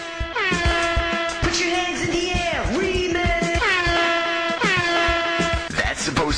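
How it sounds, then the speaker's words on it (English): A club DJ's air horn sound effect blares in repeated loud, harmonic blasts with pitch bends, layered over a thumping beat with voices in the mix. "Today's club DJs love to put air horns."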